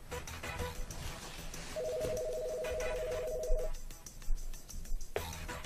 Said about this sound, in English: Dial 4 now to call my cell phone.